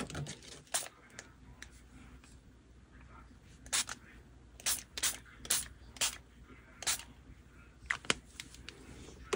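Spray bottles of watercolor mist paper for handmade faux washi tape, giving about eight short, sharp hissing spritzes in irregular bursts, close and fairly loud against a quiet background.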